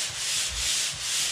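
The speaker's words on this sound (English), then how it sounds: "When I come with a pull sander, I'm going to be pull sanding like this on the screw." A pull sander scrapes over dried drywall mud covering screw heads, giving a steady, close, hissing abrasive rub in long repeated strokes with no talk.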